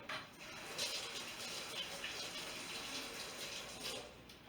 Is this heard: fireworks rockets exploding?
no